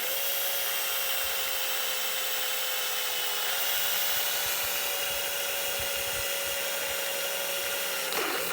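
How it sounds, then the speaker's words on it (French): A power drill bores at an angle into the drum of a non-removable-tub washing machine, a steady high whining grind held for several seconds under constant pressure. "on appuie la perceuse là, et on perce un peu en descendant pour bien choper l'autre côté"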